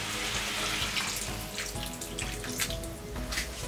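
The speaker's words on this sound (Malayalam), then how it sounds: "ഇനി ഞാൻ എൻ്റെ അകത്തേക്ക് 1/2 ഗ്ലാസോളം വെള്ളം ഒഴിക്കുന്നതാണ്." About half a glass of water is poured into a pot of Kerala sadya koottu curry with chickpeas, making a steady splashing rush that runs unbroken for several seconds, close and fairly loud.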